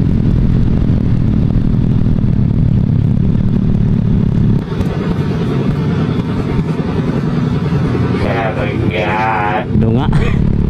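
A loud, tuned Honda Wave motorcycle with a modified exhaust, engine droning and rumbling nearby, then shifting pitch as it revs and pulls away on the road.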